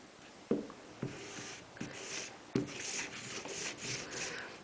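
A bar of sharpening compound rubbed onto a heated leather strop, giving several scraping, rasping strokes with soft knocks as each stroke starts, close up and with no talk.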